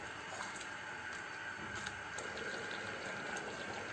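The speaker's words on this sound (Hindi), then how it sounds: "ये वो पानी है जो मैंने चनों में से निकाला था, वो भी मैंने शामिल कर दिया।" Drained chickpea cooking water poured into a frying pan of white chana cholay being fried in oil over the heat, a steady watery hiss and bubbling that holds evenly throughout.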